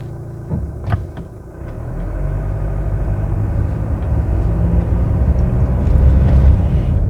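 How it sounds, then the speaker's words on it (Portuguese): A Ram Rampage 2.2 turbo diesel engine runs with a continuous low, loud rumble and drone that swells slightly toward the end, with no voices. "você também ouve aquele barulho, aquele drrrr de motor diesel"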